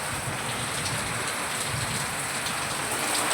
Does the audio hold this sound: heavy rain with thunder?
yes